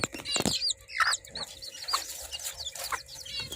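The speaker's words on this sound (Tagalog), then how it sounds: "nailipat na natin yung inahin kasama yung mga sisiw niya" A Serama hen clucks near her tiny chicks, with repeated short clucks and high thin peeping calls close by, some louder bursts and a faint flutter, no one speaking.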